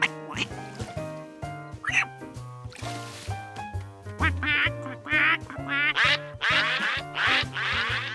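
A chorus of ducks at a pond quacks repeatedly and loudly over bouncy background music, the quacks growing denser and more insistent toward the end.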